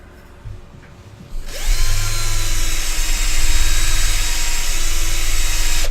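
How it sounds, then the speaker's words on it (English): A power drill spinning a fluffy polishing pad whirs up loudly after a brief quiet start, then spins steadily at high speed close by, with a constant buzzing hum. "I use my handy dandy little drill with my fluffy on it"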